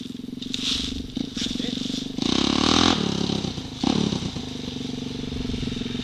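A 400 dirt bike engine idling and revving nearby, its steady thrum rising into two loud throttle blips with rattling clatter, while people talk over it.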